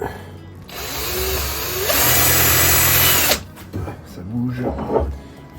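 A power drill bores a small stop hole in wood for a Windsor stool: a loud whining burst that rises as the bit bites, then cuts off, with a person talking around it.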